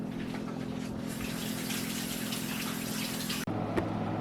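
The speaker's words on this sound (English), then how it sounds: "I'm gonna wash my hands" Water running steadily from a kitchen tap for hand washing, a broadband rushing hiss held close and loud for several seconds, then cut off abruptly near the end with a brief clink after.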